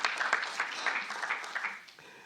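Audience applause at a political communication congress for an Andean parliamentarian: a short, moderately loud round of clapping from a crowd, fairly even throughout.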